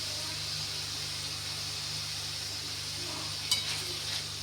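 Chivda vegetable mixture being stirred with salt in a pan, a soft continuous sizzle with a low hum and one brief scraping clink near the end, quiet and close.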